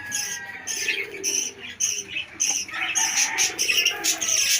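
Caged pet birds chirp and tweet in rapid bursts close by during their December breeding season, with one hen on a clutch of three eggs, soft cooing beneath and occasional flutters of wings.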